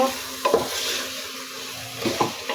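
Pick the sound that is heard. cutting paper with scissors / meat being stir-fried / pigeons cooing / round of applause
meat being stir-fried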